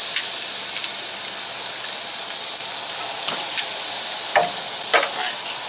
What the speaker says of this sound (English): All right, steak's going on.